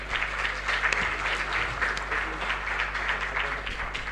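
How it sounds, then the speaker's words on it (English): Audience applause at a symposium on countering organized crime in Africa, a dense, steady patter of many hands clapping in a hall, moderately loud and continuous throughout. "we can appreciate them with a round of applause"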